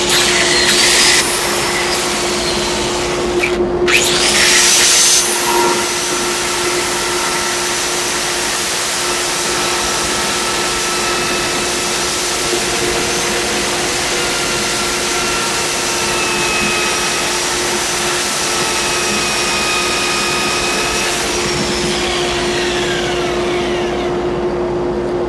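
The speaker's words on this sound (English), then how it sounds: "this is where I will resort to the power sander and then maybe some hand sanding to finish it up" A power sander works a wooden rolling pin spinning on a lathe, giving a loud, steady, high whine with a constant tone that runs unbroken for the whole stretch, with a brief rougher burst near the start.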